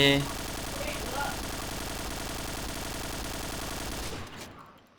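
Rapid automatic fire from an AUG rifle in the shooter game Point Blank, a steady burst of evenly spaced shots running for about four seconds before cutting off abruptly, with faint game noise underneath.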